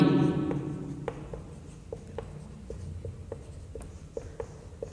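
Chalk or marker writing on a board in a classroom lesson on Himalayan drainage, a series of short taps and scratches in an irregular rhythm, close and fairly faint, after a voice at the start.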